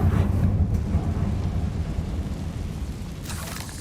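A Confringo fire spell blasts in Hogwarts Legacy, a loud rumbling burst with heavy low-end boom that rolls on like thunder, then a brighter hiss swells near the end.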